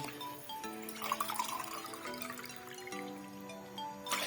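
Water poured into a pot of chicken biryani with four glasses of rice, a steady liquid pour with dripping over a low background, with no talking.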